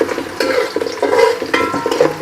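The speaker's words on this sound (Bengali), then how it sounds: "পেঁয়াজটা আর একটু ভাজা ভাজা হোক" A pan sizzles loudly as onions fry, with a spoon scraping and stirring in uneven strokes close by.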